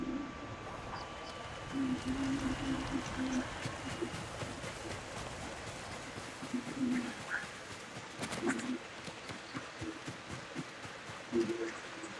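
Doves or pigeons coo in the Ghost of Tsushima game, low soft repeated coos in scattered bursts over a steady rain-like ambience, with faint voices nearby.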